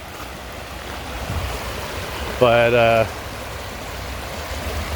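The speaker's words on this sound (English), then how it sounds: "the creek is a little high" A swollen creek on a walk around Dinosaur Lake rushes steadily in the background throughout, a continuous broadband wash of flowing water, with a brief spoken word in the middle.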